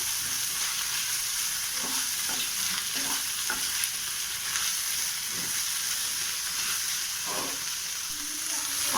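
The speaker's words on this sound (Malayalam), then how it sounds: "ഇനി സവോള ഒന്ന് നന്നായി വാടിയിട്ട് വരണം." Sliced onions and ginger garlic paste fry in a pan with a steady, close sizzle and occasional soft stirring scrapes, with no voices.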